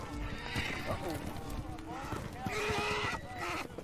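A horse neighs and whinnies with hooves clip-clopping in a TV drama scene, the calls rising and falling over the mix while voices speak alongside.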